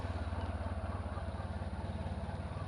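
Heavy Honda VFR1200X Crosstourer motorcycle (2013 VFR1200XD) riding through the city, its engine giving a steady, loud low rumble with a pulsing beat throughout, close to the microphone and with no talk over it.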